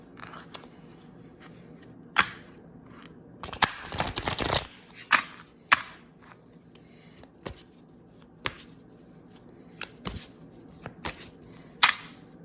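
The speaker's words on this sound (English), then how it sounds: "this deck is wonderful for shuffling." Tarot cards from a dog-themed deck being shuffled by hand, giving soft riffling bursts and scattered clicks, with one dense shuffle in the middle and quieter taps and snaps around it.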